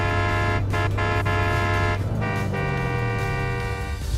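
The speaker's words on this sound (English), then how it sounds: "Press the horn, and you'll hear an entirely custom sound ripped straight from the game." In Fortnite, the custom horn of a Cyberpunk 2077 car blares as a loud, sustained, rich multi-tone honk that holds steady for several seconds, close and alone.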